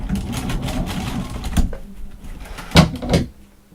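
Sewing machine running a short seam and backstitching on a doll fabric panel, a close buzzing whir with a couple of sharp clunks near the end, no voices.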